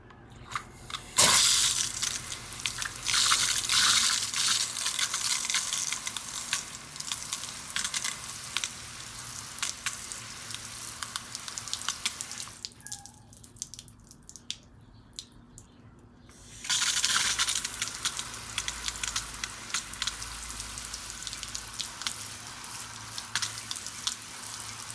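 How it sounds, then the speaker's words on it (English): Water pours into a potted Cebu Blue pothos and drains out the bottom, a steady hissing splash like a running tap that drops off briefly midway and then resumes. "I'm going to go ahead and give it a good watering and let that drain out the bottom."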